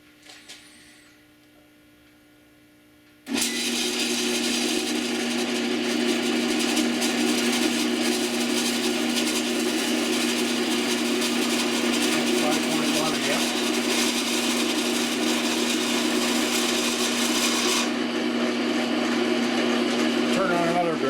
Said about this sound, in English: I'm going to turn the drill press on here and see what happens.